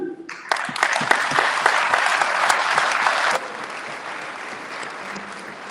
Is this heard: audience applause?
yes